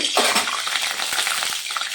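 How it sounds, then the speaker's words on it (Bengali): Batter-coated Kashmiri chillies fry in a karahi of hot oil, giving a loud, steady, dense sizzle with crackling bursts throughout, heard close up with no talking. "এই যে যে ব্যাটারটা তৈরি করেছি আমি ওইটার মধ্যে চুবিয়ে চুবিয়ে আমি তেলের মধ্যে দিয়ে দেব।"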